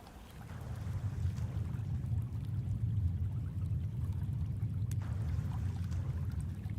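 Water splash effects from the video game Project Songbird, a dense, harsh rushing wash of water with a fresh splash burst near the end, loud and continuous without talk.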